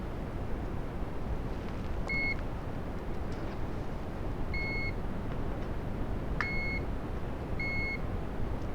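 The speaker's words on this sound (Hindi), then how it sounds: "मल्टीमीटर को बजर रेंज पे लगाएंगे।" Multimeter set to its continuity buzzer range while probing a laptop motherboard, giving several short, thin electronic beeps spaced apart over steady background hiss, with no talking.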